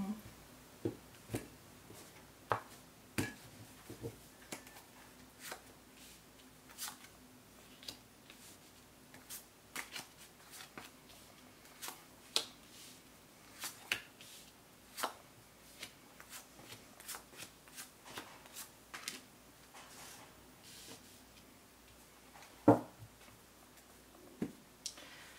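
Tarot cards shuffle and are laid out one by one for a Celtic Cross spread, soft repeated card slaps and flicks at an irregular pace, close and fairly quiet.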